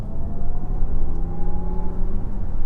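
Lexus RZ450e electric car accelerating in sport mode, a steady rising motor whine with road and wind rumble heard from inside the cabin, continuous and fairly loud.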